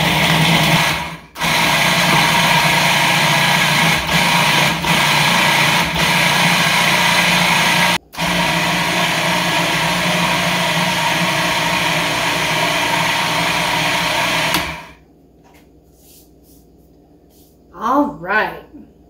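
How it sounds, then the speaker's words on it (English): A food processor pulses a mixture of butter and graham crackers in long, loud, steady bursts with a brief stop between them. The motor cuts out near the end, and a few faint knocks follow. "I'm just going to pulse this in my food processor for a little while to blend it all together and chop that butter"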